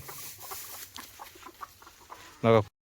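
Farm chickens cluck in short, irregular bursts at moderate distance, ending with a sudden louder squawk-like burst just before the sound cuts off.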